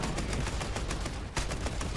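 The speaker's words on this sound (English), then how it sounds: "Got a critical on him with my 20mm cannon, set him on fire." Rapid bursts of 20mm autocannon fire from a tank in War Thunder, a fast string of sharp repeated shots over a steady low engine rumble, with one louder crack partway through.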